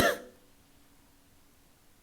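A single person's cough, loud and abrupt at the start, then fading into near silence with only faint room hum for the rest.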